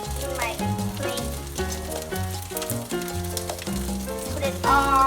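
Salmon fried rice sizzling and crackling in a pan while being stir-fried, a continuous moderate hiss with occasional scraping of the utensil and a faint background tone.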